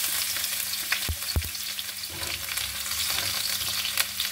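Garlic sautéing in a pan as the base for kare-kare pata with anchovies: a steady, close hiss of frying with a couple of soft low knocks from the pan, and no talking.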